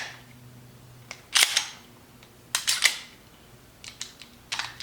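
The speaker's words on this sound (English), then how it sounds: "let's go ahead and dry fire it" Dry firing a Mossberg MC2C 9mm striker-fired handgun, with a few sharp, close mechanical clicks and snaps spaced over several seconds and no talk.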